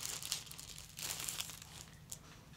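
Plastic packaging crinkles and rustles close by as a cotton vest in the largest size, 100, is pulled open, with steady crumpling and no talk.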